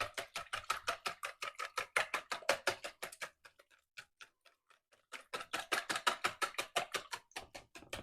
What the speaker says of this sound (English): I've already opened and cracked 8 eggs and placed it in this middle size bowl. So let's whisk